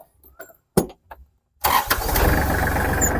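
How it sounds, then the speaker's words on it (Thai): Kubota GL25 tractor engine cranking with a few short starter bursts, then catching and settling into a steady, loud, close idle. "เดี๋ยวฟังเสียงเครื่องดูนะครับ"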